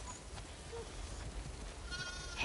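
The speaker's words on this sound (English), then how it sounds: "We definitely have way too many sheep." Sheep bleat faintly in a farm enclosure in the game The Last of Us Part 2, a few soft, distant calls over a quiet ambient background.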